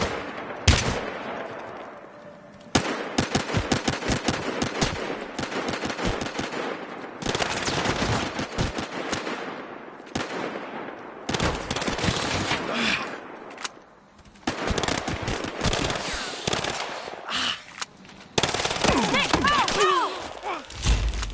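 Gunfire in the video game Battlefield Hardline: long, dense bursts of automatic fire and sharp single shots repeating over about twenty seconds, loud and close, with brief pauses and game voices shouting now and then.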